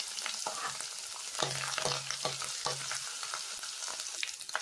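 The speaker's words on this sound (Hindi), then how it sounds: "जब लहसुन और वो थोड़ा सा गोल्डन ब्राउन हो जाए" Garlic, ginger and green chili fry in hot oil for a Manchurian gravy, a continuous close sizzle punctuated by repeated scraping stirs against the pan, with no talk.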